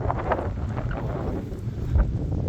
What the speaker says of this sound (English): I'm so sorry about the wind